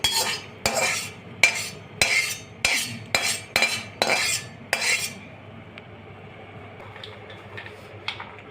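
Ladoo ingredients, including grated coconut, being stirred while dry roasting in a pan, giving a series of sharp, regular scraping clacks from a spoon against the pan, loud and near, that stop partway and leave a quieter background with a few soft knocks.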